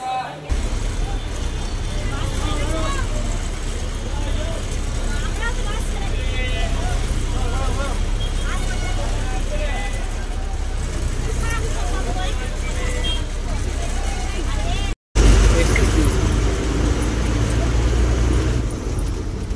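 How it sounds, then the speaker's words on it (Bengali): Loud, steady ambience at the busy Arambagh bus stand: idling and passing bus and car engines, road traffic rumble and a constant babble of crowd voices, with one brief dropout before the din resumes. "আর আমি চলে এসেছি আরামবাগ বাস স্ট্যান্ডে"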